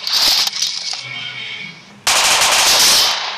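Rapid automatic gunfire from a battle video game rattles loud and bright in two long bursts, broken by a short quieter gap.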